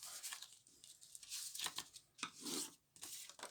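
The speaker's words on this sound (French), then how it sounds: "Je vais marquer mes plis." Paper being scored along fold lines for a Stampin' Up chocolate box, a series of close, crisp scraping strokes with brief gaps and no speech.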